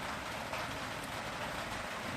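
Rain falls at Bolins Fishing Lake during a thunderstorm, a soft, steady hiss of drops on surfaces with no voices and no change in intensity.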